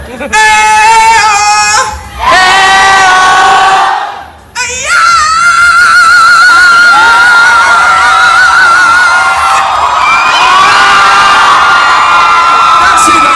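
A large concert crowd in Manila cheers, whoops and shouts loudly and almost continuously, with voices chanting together, a short drop near the middle, then a swell back to full volume.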